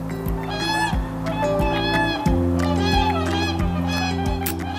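Wintering swans at Chungju call in a flock, a steady overlapping chorus of loud, brassy honks close by, some higher and some deeper, that goes on without a break.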